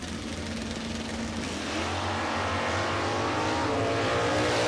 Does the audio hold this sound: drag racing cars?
yes